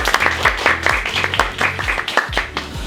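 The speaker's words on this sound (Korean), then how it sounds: "박수로 환영해 주시고." Audience applause welcoming a lecturer at a creators' workshop, a dense steady patter of many hands clapping with rhythmic low thumps beneath, fairly close and sustained throughout.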